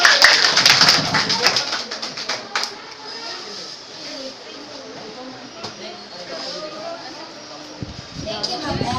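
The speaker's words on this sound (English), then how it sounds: "So, round of applause para kayong team." Applause at a school debate on banning public cigarette smoking: a burst of dense, crisp clapping from the audience opens loudly, then thins and fades into quieter room sound with a few scattered claps and taps.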